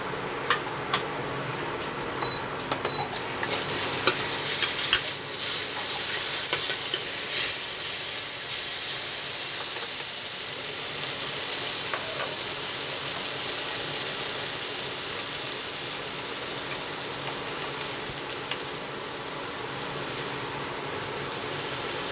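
Tomato and chili added to capsicum frying in a pan, a steady soft sizzle and hiss with occasional clicks of stirring throughout.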